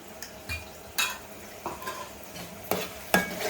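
Ginger garlic paste fries in a pan for a Krishna river small fish curry, with soft sizzling broken by several light scrapes and taps of a spoon against the pan.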